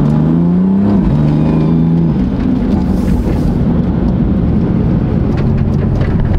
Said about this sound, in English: Don't know what that whining noise is though